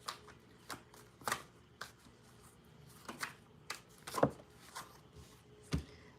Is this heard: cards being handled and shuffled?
yes